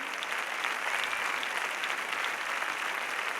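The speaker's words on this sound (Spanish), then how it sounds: "La obra resulta un éxito y el público aplaude puesto en pie." Theatre audience in Mérida giving a standing ovation after a play, a thick continuous wash of clapping from a large crowd, even and sustained across the short stretch.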